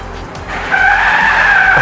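A Toyota Hilux fitted with a new 4x4 wheel and tyre package drives up with its tyres skidding: a brief low rumble, then a loud, sustained high squeal holding steady, with no voices.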